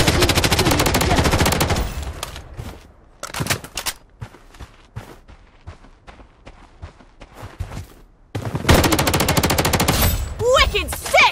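Automatic gunfire in the shooter video game Project: BloodStrike comes in loud rapid bursts at the start and end, with scattered quieter shots and footsteps between them.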